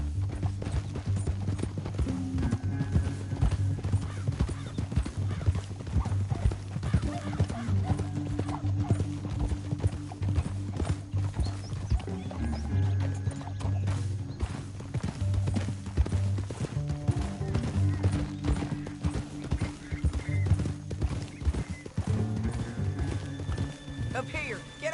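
In the Red Dead Redemption 2 video game, several horses gallop with rapid, continuous clip-clop hooves and occasional whinnies, while voices talk over them throughout.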